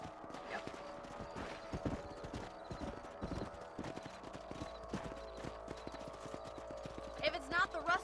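Horse hooves clip-clopping in Red Dead Redemption, a steady walking rhythm of hollow clops on a ranch property, with someone talking over them and a brief whinny near the end.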